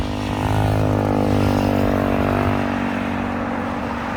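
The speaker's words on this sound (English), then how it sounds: "Sorry about the traffic, we're kind of close to the road here." Road traffic passes close to a garden plot, a steady loud vehicle drone with engine tones that sweep and shift as cars go by, filling the whole stretch without talk.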